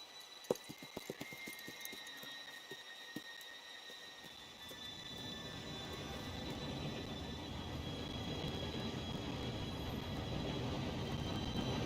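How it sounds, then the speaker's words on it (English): A train arrives in the video game Red Dead Redemption 2, rumbling in with a steady, building roar after a few sharp clanks, its broadband noise swelling and holding loud to the end. "Train should be here any minute now."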